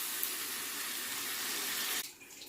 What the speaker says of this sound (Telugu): గ్రేవీకి సరిపడా వాటర్ పోసు పులుసుతో పాటు వాటర్ కూడా ఇలా